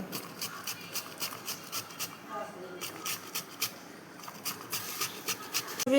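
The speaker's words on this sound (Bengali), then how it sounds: "এখন এগুলোকে ঘষে নিব" Ash gourd pieces rubbed across a kitchen grater for pakora, a quick rhythmic rasping of repeated strokes, close and moderately loud, with a voice speaking over parts of it.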